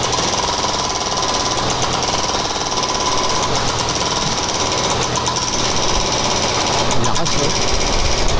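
A hydraulic breaker on a PC30 mini backhoe pounds away at a recreational park being demolished in Cagayan de Oro, a loud, close, unbroken stream of rapid hammering blows with engine drone underneath.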